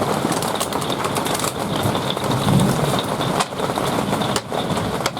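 Steady rain from a thunderstorm pours down on a popup camper in a dense, continuous wash, with a low rumble swelling briefly in the middle like distant thunder.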